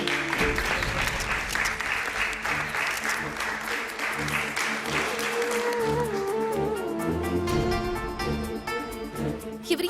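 An audience applauds as a guest, Mr. Vinay Vadhera, is welcomed onto a stage, loud dense clapping at first that thins out while music rises and carries on beneath it.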